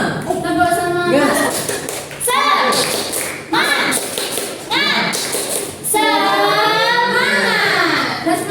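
A classroom does the tepuk semangat routine, with several sharp claps and thumps alternating with voices chanting in rhythm. The voices and claps are loud and close.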